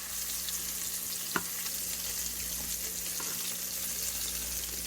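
Breaded jumbo coconut shrimp fry in a pan with an even, continuous sizzle and one sharp tap partway through, without speech.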